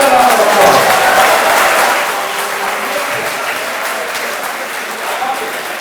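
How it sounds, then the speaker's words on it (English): A lecture-hall audience at a law lecture gives a loud, sustained round of applause that eases slightly midway and continues steadily to the end. "Another round of applause"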